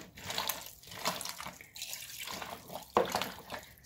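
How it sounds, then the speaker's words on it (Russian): Half a litre of water poured from a container into a bowl of minced meat for homemade sausage, a steady close splashing pour with a brief louder gush near the end. "И я добавляю воды."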